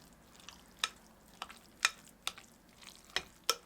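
A spoon stirs börek pastry batter in a bowl, making a series of sharp scraping clicks against the bowl at an uneven pace, close and fairly quiet, with no talking.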